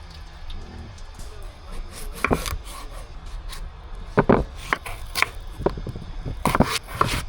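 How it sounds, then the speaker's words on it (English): A knife cutting up a potato for homemade French fries at a camping setup, giving scattered soft thuds and scraping clicks in uneven bursts, close by. "Now I'm just gonna cut up a potato to do a"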